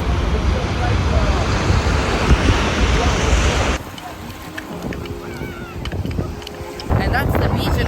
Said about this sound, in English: This kind of peninsula, the waves are coming from both sides.